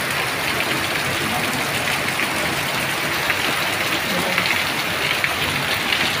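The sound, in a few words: heavy evening rain with lightning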